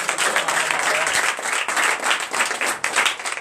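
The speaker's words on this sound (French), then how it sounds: "Donnez encore plus d'acclamations" Applause from a church congregation during a Beninese Sunday worship service, a dense sustained wash of many hands clapping at close range, steady throughout with slight surges and a brief dip near the end.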